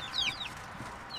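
Jersey Giant chicks give a few faint, high, quick peeps and soft clucks, close by but quiet over a low background hush.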